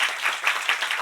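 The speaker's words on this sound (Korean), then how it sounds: "우리 조성은 선교사님 위해서 박수." Congregation applauding a missionary at a church revival service, steady dense clapping from many hands filling the whole moment without any voices.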